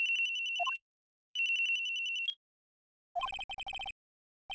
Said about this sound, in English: I received a phone call on my cell phone.